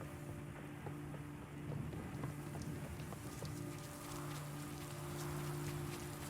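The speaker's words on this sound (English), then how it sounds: "because the rain started" Steady rain falls across an outdoor scene in the video game Last Day of June, a soft continuous patter with scattered drops, sustained and fairly even under low tonal hum, with no talking.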